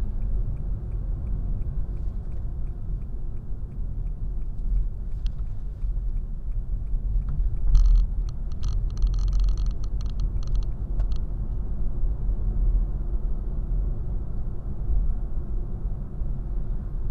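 Car interior with a steady low engine rumble and road noise throughout, plus a brief brighter rattle or tapping midway, no talking.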